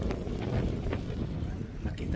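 Strong winter wind in Canada buffets the microphone with a continuous low roar and rumble, gusting throughout.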